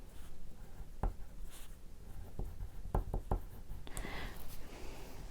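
Crayola pastel crayon scraping and tapping over black paper while a circle is drawn, faint dry rubbing strokes punctuated by several sharp knocks against the surface, close and quiet, with no talk.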